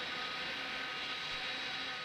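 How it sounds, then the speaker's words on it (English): Thrust reversers engaged on an Airbus A300-600R freighter in a flight simulator produce a steady, loud jet-engine roar that holds even throughout, with no voices over it. "I think your reversers are on."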